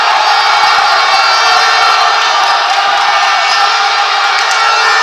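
Spectators at a Spanish first-division basketball championship semifinal cheer and shout loudly in a dense, sustained roar of crowd noise throughout, with no clear talk over it.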